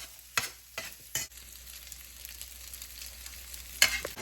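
Cooked rice is stirred into tamarind paste in a pan: a few scraping strokes at the start, then a quiet simmering sizzle, and another brief scrape near the end, with no talk.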